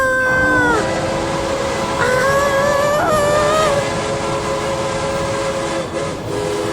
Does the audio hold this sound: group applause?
no